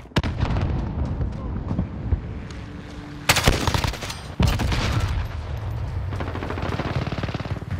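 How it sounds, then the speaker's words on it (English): In a shooter video game, a thrown grenade goes off with two loud, sharp blasts amid dense, continuous gunfire and gunfight noise, with voices heard in the mix. "Enemy at the back alley. Grenade out!"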